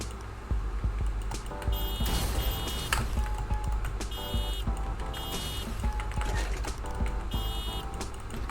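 A video game truck level carries a loud engine drone with repeated reverse-warning beeps sounding in short regular bursts, mixed with clanks and other vehicle noises.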